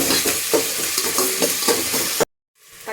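Ginger garlic paste sautés in hot oil for biryani, a steady sizzle broken by spoon stirs and scrapes against the pan, then a sudden cut to silence before the frying returns faintly.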